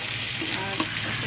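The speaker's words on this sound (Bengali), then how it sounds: "এখানে পটল ভাজা হচ্ছে" Pointed gourd (potol) frying in a pan gives a steady, close, crackling sizzle with a few small pops. No one speaks over it.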